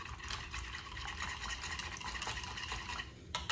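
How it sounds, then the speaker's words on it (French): Milk being stirred in a bowl while making île flottante, a soft continuous liquid swishing and scraping close up, steady throughout with a brief louder clink near the end. "Donc là, on va remélanger un petit peu notre lait."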